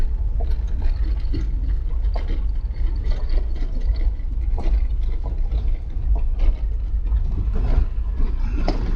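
A vehicle rolling through a small water crossing on a rough mountain trail over Telkwa Pass, its engine rumbling low and steady as water splashes and churns around the wheels for several seconds.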